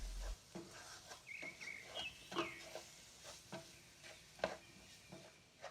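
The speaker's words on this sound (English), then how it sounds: "stir well to combine all the ingredients and cook for about 2 to 3 minutes" A spoon stirs Italian herbs and spices into a meatball tomato sauce cooking in a pan: soft sizzling under irregular scrapes and clinks, with a few brief high squeaks, close and quiet.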